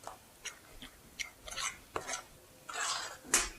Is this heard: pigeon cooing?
no